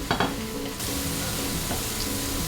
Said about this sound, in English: Once the oil heats up, add the green onions and stir fry until fragrant.